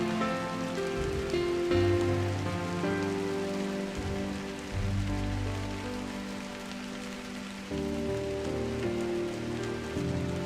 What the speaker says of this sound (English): I woke to a morning of light drizzle